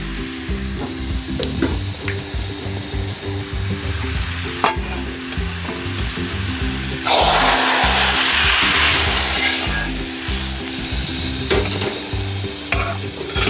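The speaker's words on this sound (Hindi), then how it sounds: "अब इसको शामिल करेंगे दाल के अंदर।" Browned onion tadka in ghee poured and stirred into daal, a loud close sizzle that surges into a hissing burst midway, with steady stirring scrapes throughout and no talk.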